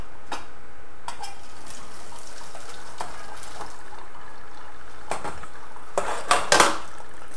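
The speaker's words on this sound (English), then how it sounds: "Let me go get the pot." A cooking pot is fetched and handled in a home kitchen, with faint scattered clinks giving way to several sharp metallic clanks and scrapes of pots and utensils near the end.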